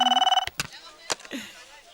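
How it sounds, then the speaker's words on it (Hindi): A telephone rings with a loud electronic trill in short rapid pulses, then stops abruptly, leaving clicks and faint indoor noise. "अरे इसकी तो फिर से फोन आ गया इसका।"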